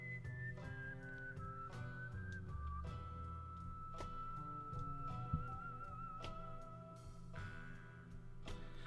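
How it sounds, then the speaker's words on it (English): Final Fantasy VI game music from the SNES: a whistled melody over banjo and mouth harp, playing continuously at low volume with a steady plucked rhythm. "Mouth harp, banjo, and whistling."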